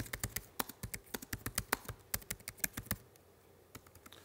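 Quiet, close computer-keyboard typing in a rapid, uneven run of crisp key taps that slows to a few isolated presses near the end, with no voices.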